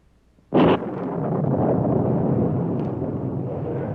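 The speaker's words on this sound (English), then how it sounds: "he is directing some blasting operations" A loud mine blasting charge detonates in a sharp burst, then a sustained rumble of loosened shale tumbling and rolling on for several seconds, staged as a radio drama effect.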